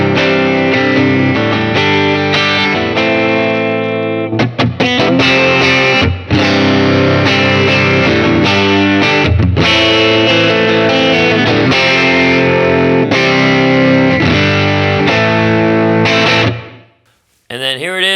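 Electric guitar played through a Line 6 POD HD500x on a clean Fender/Vox-style amp patch with boost, a loud, continuous full-band-like passage of chords and riffs that cuts off abruptly near the end.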